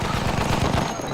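A burst of rapid gunfire in Battlefield 1 on the Giant's Shadow map strikes the player, loud close rattling shots packed tightly together for about a second before trailing off.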